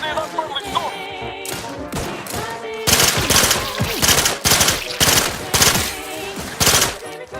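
Rapid gunfire from The Outer Worlds 2 rips out in bursts and sustained automatic strings over a busy game soundscape, loud and close, with a short quieter stretch before the heaviest firing.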